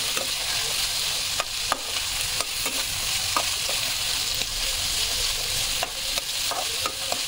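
Green beans and onions stir-frying in a pan, a steady hiss of hot oil with intermittent spatula scrapes and taps against the metal.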